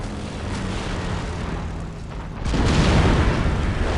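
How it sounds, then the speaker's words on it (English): An airstrike in Company of Heroes hits with a sudden loud, rumbling boom that swells into sustained heavy roaring after a steady low battlefield drone. "let me anticipate the airstrike here"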